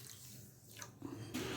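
Water is poured into a pan holding sugar to make jelly candy syrup, a faint, continuous splashing rush that rises slightly toward the end.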